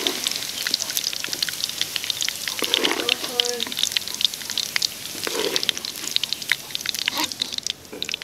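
Onion and garlic sautéing in oil for menudo, a crackling, spattering sizzle with irregular pops throughout, while a person talks over it.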